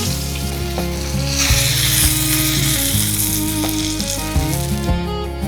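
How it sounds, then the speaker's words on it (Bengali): Pomfret fish frying in hot oil in a pan makes a loud continuous sizzle with crackling spits, with occasional soft knocks and scrapes as the fish is handled. "আমার মাছটা এপাশ হয়ে গেছে, আমি এখন উল্টিয়ে দিচ্ছি।"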